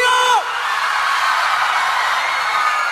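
A live forró concert crowd screams and whoops loudly after a short held vocal note, a dense, sustained roar of many voices filling the space.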